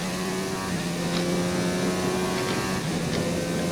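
A McLaren F1 race car engine in a racing video game holds a steady, dense high-revving drone with slight pitch shifts, loud and continuous with no speech.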